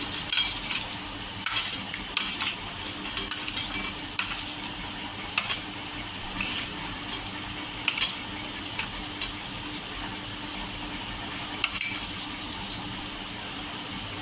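Poha cutlets shallow-frying in hot oil until golden and crispy, a steady close sizzle with scattered crackles and pops running throughout, no voices.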